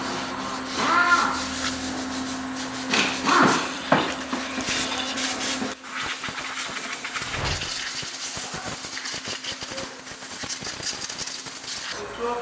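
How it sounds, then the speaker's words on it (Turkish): Abrasive sanding of a Lada Vega's brake shoes comes in bursts of rubbing and scraping, then gives way to a quieter workshop hum with a steady low tone. "Şimdi balatalarımızı güzelce temizleyeceğiz. Zımpara işlemi gerçekleştiriliyor."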